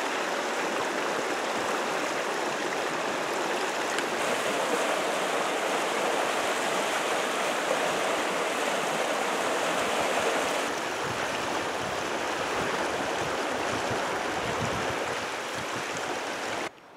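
A river flows right beside a campground in Tweedsmuir Provincial Park, British Columbia. Its rushing water makes a steady, close, full-bodied roar that holds unbroken throughout, with no voices.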